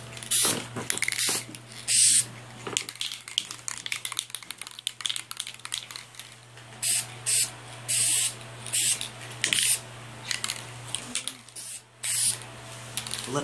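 Spray paint can applying a light coat to a Legacy Morpher prop, repeated short hissing bursts of varying length separated by brief pauses, close and loud over a faint steady hum, with no talking.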